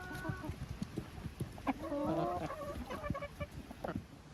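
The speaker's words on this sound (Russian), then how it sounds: "Они все равно всю картошку скушают, потому что куры очень любят картошку." Chickens clucking as they peck at potatoes, with short soft clucks and a few louder rising calls scattered through the clip, close by and with no talking.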